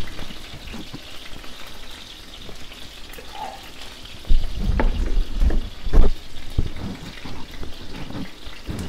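Chicken pieces browning in a hot pan for braised chicken, a steady frying sizzle that grows louder partway through with occasional pops and spatters, no talk.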